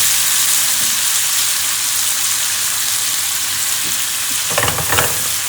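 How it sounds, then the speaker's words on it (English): Chopped tomatoes sauté in a hot pan with a steady, close, continuous sizzle and frying hiss, a few louder spatters near the end as more pieces drop in. "That's just part and parcel of saute."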